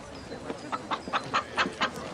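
A chicken clucks in a rhythmic series of short calls, moderately close, in a scene from the film Chico Xavier where donations such as a hen and a pig are brought in.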